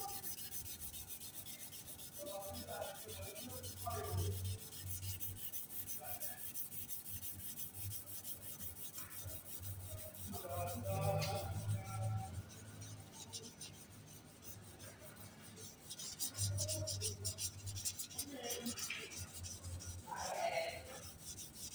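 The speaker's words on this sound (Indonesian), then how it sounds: "Mulai amplas dengan amplas grade 400 sampai jamur dan goresan hilang." Steady rubbing and rasping of grade 400 sandpaper worked over a motorcycle headlight lens to remove haze and scratches, faint and close, in uneven strokes with brief pauses.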